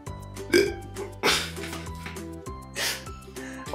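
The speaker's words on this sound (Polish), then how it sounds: "Przepraszam, ale trochę bekłam." A playful, exaggerated burp from a voice in a LOL Surprise camping story, set among lively toy-play music with repeated bright hits and swells.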